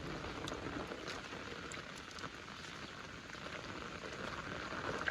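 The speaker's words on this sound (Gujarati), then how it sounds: "એટલો વરસાદ આવી ગયો છે" Heavy monsoon rain pours steadily, a dense hiss of drops drumming on a surface with no voices, constant and loud throughout.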